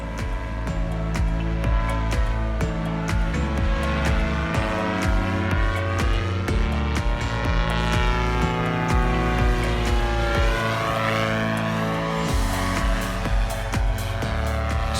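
A loud, continuous paramotor engine drones at high revs, its buzzing pitch shifting up and down as it holds full power.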